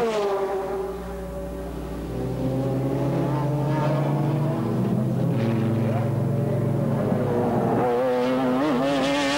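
Ferrari F40 turbo GT cars and BMW V12-powered McLarens, around 650 horsepower each, race in the 1996 BPR Global GT Series at Curitiba, Brazil. Their engines drone and whine, shifting in pitch, under a commentator's continuous talk.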